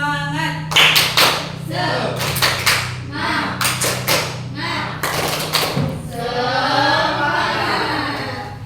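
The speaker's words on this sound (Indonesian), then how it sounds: "kita tepuk semangat dulu ya" A classroom of students performs a rhythmic spirit clap, bursts of loud group clapping in a patterned beat with voices chanting along, followed by a short stretch of children's talk and murmur.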